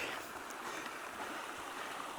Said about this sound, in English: I'm down at the bottom, and I can see the creek now